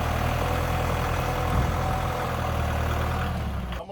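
A bushwhacker brush cutter engine runs steadily with a low, rough drone throughout, cutting off abruptly just before the end.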